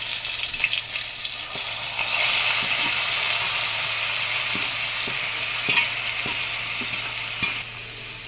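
Boiled potato and pointed gourd peels frying in a pan with panch phoron, a steady loud sizzle throughout with occasional soft stirring clicks, no voices.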